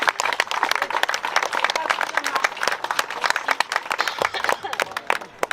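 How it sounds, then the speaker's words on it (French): An audience applauds at a public gathering, a dense, steady patter of many hands clapping together at moderate loudness throughout. "applaudissons"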